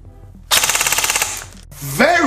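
Evolution EVO Ultra Lite Carbine PDW Lone Star Edition airsoft gun firing full auto: a loud, rapid burst of fast even shots for about a second, then a pause and a short whir.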